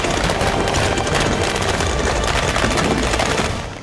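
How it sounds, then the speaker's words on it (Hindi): Rapid, dense bursts of gunfire from commandos in a war zone crackle continuously at close range, loud and sustained with almost no pause, fading slightly at the end. "वॉर जोन में ताबड़तोड़ गोलियां दागते कमांडो"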